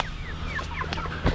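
Big meat hens clucking in a woodland pen, a continuous close chatter of short overlapping clucks and murmurs with one louder burst near the end.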